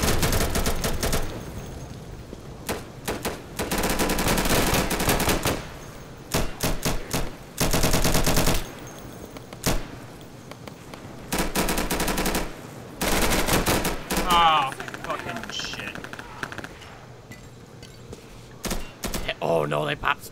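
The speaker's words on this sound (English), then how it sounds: "There's bullets flying in through the window!" Gunfire in the Insurgency video game comes in loud, repeated automatic bursts separated by short gaps, with excited voices shouting between the volleys.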